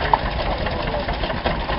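A 1917 Avery Model 8-16 gas-kerosene hot rod tractor engine runs steadily nearby, a rough continuous low-pitched chug with a few sharper knocks and no talk.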